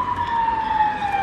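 A police car siren wails loud and close on a street in Bucharest, Romania, holding a steady sustained tone throughout.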